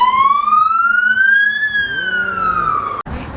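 A fire engine siren in Rakvere, Estonia, sounds loud and near as it passes, one long wailing tone that climbs and then slowly falls, cut off by a sharp bump near the end.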